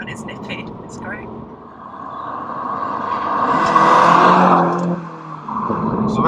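A modern Mini car's engine while driving, a smooth engine note that swells to a louder peak midway and then eases back, with voices talking over it.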